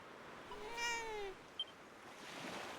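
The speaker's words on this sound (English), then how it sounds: "You can pet the cat!" A cat in the video game Dragon Quest VII Reimagined gives a single drawn-out, rising-then-falling meow over a soft ambient backdrop, with a brief click afterward.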